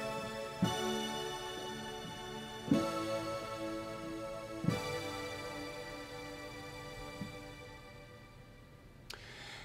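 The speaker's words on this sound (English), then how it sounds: "Next is a nice big synth lead." Big synth lead patch on a keyboard plays sustained polyphonic chords, each with a sharp attack that slowly decays but keeps ringing; four chord changes sound alone over roughly ten seconds, with a final brief click.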